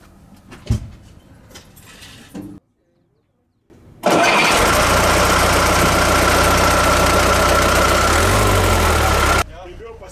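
A rare TAM 130 A 8 bus with a fully overhauled engine cranks and catches, then roars loudly and steadily for several seconds after brief quiet handling noises, and cuts off abruptly.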